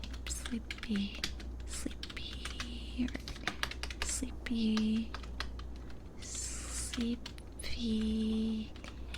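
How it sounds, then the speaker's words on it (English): A computer keyboard is typed on in close, quiet bursts of soft clicking keystrokes, broken by pauses, with occasional faint whispered speech between. "I'm gonna type that out."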